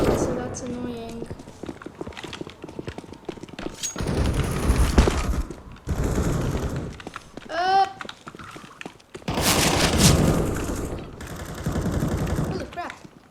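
Pistol gunshots in the video game Global Strike, sharp single shots and short bursts with booming impacts amid game effects, while a player talks over the action.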